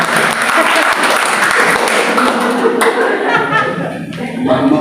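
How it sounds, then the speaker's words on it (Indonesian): A church congregation claps and applauds after offerings are announced during a service, a dense round of clapping that fades toward the end, with voices speaking over it. "Tepuk tangan kita."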